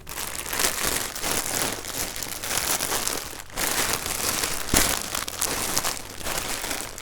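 Continuous crinkling and rustling of a plastic bag, close and fairly loud, with a few brief pauses and sharper crackles throughout.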